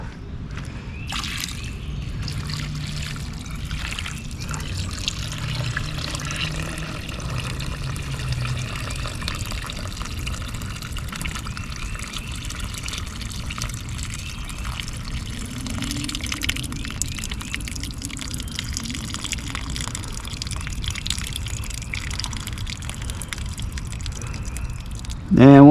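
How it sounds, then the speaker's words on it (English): Water poured off a bucket of compost being rinsed, a steady low sloshing and trickling pour that runs continuously for the whole stretch, fairly close and without any talk over it. "Now let's pour the water off."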